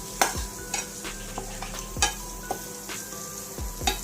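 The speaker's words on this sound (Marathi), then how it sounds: "कोथिंबीर घातल्याच्या नंतर भाजीला छान व्यवस्थित परतून घ्या" Cluster bean curry with fresh coriander being stir-fried: a steady sizzle runs under repeated sharp scrapes and taps of a spatula against the pan, several strokes every second, close up and with no voices.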